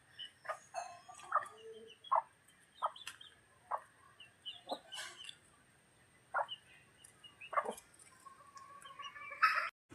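A jungle fowl calling nearby beside a farm, a series of short, sharp clucking and crowing bursts repeated irregularly at close range over a quiet outdoor background, with no talking.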